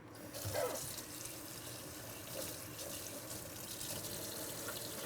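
Running tap water rinsing dental impression trays in a sterilization room, a steady hissing stream that holds constant for five seconds with faint splashes and no voices.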